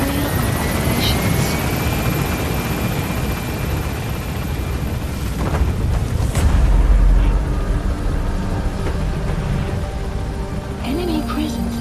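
A helicopter in Metal Gear Solid 5 lifts off and gains altitude, its steady loud rotor roar filling the scene with a brief swell in the middle, while a voice speaks over it.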